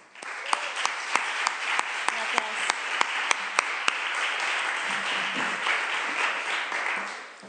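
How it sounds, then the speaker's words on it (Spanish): A lecture audience applauds at a literary talk, a dense steady wash of hand claps lasting several seconds with a few sharper individual claps standing out, fading slightly at the end. "te damos un aplauso"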